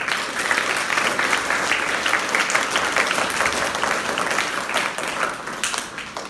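A church congregation applauds during a Palm Sunday service, steady dense clapping from many hands at moderate loudness for several seconds.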